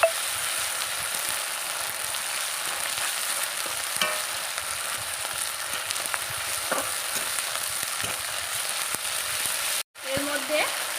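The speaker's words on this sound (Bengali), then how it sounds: "দেওয়ার পর মশলাটাকে আমি ভালো করে মিক্স করে নেব" Spice masala frying in a pan while being stirred for a village-style mirka fish curry with pumpkin bori, a steady dense sizzle with occasional scraping, continuous and close, briefly cutting out near the end.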